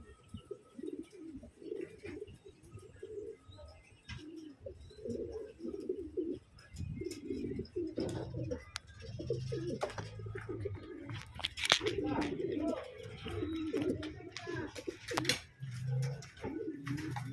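Racing pigeon number 114 coos during summer training, with soft, repeated low cooing and some faint chirps nearby, under someone talking throughout.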